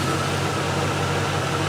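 Range Rover engine idling steadily with no misfire, a continuous low rumble with even, unbroken running throughout.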